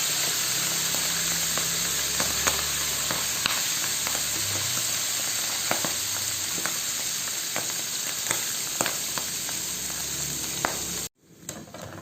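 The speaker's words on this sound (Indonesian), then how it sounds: "Pertama kita akan goreng kaki udang yang tadi kita" Shrimp legs sizzle steadily in hot oil for about eleven seconds, a dense close frying hiss with scattered pops and crackles, cutting off abruptly near the end.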